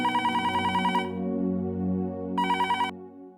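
A telephone ringtone sounds in two bursts of quick repeated rings, the second after a pause, over a sustained background music bed indoors.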